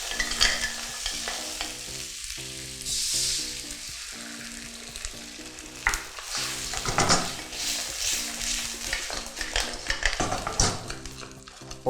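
Seafood stew cooks in a hot pan after white wine and bay leaves are added, giving a continuous loud sizzle and bubbling with repeated stirring and utensil scrapes against the pan.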